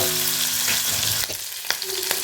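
Beef cooking in a pot for Arabian kabsa: a loud, close, continuous sizzle with a few sharp clicks from stirring near the end, and no voices.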